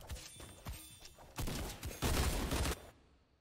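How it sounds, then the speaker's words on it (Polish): Gunfire aimed at the player in a shooter game comes as several quick volleys of rapid shots, separate bursts spaced over a few seconds, fairly close, with no talk. "Ktoś do ciebie strzela."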